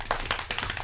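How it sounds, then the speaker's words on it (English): A few sharp hand claps sound close by in quick succession, uneven in timing, over a brief moment. "I'm still clapping."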